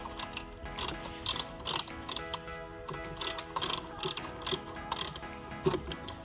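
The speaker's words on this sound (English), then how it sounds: "once we loosen that bolt, then we take it off." Rapid clicking of a ratchet loosening a bolt during a Porsche 911 battery replacement, close and crisp, the ticks coming in quick bursts with short pauses between them.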